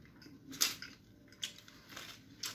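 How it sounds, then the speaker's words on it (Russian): Chocolate on a Russian Easter kulich crunches as it is eaten, with a few sharp close bites and crackles spaced across a quiet moment, no talk. "Шоколадка хрустит."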